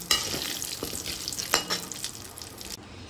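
Kalonji seeds temper in hot oil in a pan as they are stirred, a steady sizzle with a few sharp scraping clicks of the spoon, close and unaccompanied by talk.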